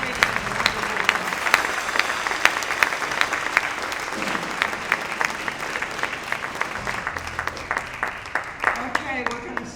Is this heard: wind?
no